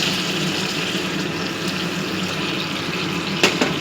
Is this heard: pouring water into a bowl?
yes